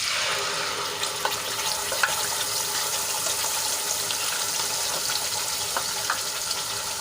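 Spice paste hits hot oil already holding cumin and asafoetida for a corn and paneer curry, giving a steady close hiss with scattered small pops and crackles and no voices.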